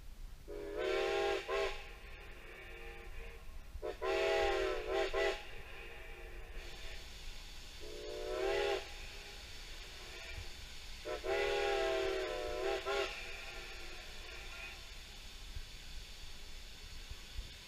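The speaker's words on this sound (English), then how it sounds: "blow that whistle, please." Strasburg Railroad steam locomotive No. 90 blows its whistle four times in winter, long wavering blasts separated by short pauses, sounding from a moderate distance over quiet rumble.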